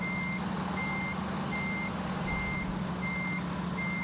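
A truck reverses at Phoenix Raceway, its backup alarm beeping in an even, repeating rhythm over a loud, constant rumble of engines and ambient track noise.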